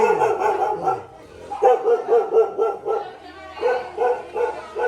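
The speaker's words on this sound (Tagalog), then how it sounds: "May aso. May aso po." A dog barks repeatedly in short bursts at close range inside a rattan furniture shop while people talk over it.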